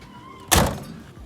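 A rear-hinged suicide door on a 1936 Hudson Series 63 closes with a single solid thunk, heard close and clear against a quiet background, with a faint rustle afterward.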